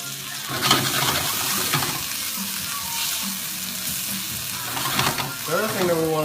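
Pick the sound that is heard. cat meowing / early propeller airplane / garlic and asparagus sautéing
garlic and asparagus sautéing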